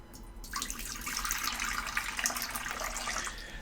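Tap water pours into a dog's water bowl, starting suddenly and then running as a steady, splashy stream that stays fairly close and clear.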